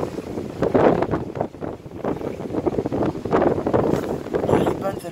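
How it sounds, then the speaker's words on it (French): A strong gust of Storm Carmen in Le Mans, roaring and buffeting against the microphone in loud surges, with someone speaking French over the wind. "Grosse rafale encore."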